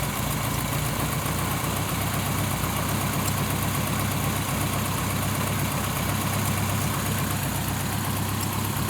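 A car engine with a freshly adjusted Holley 5200 carburetor idles steadily and close by, holding an even, slightly rough rumble throughout with no voices.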